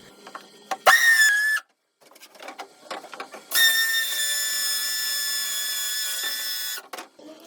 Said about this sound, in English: Position the batten, drill the hole, drive the screw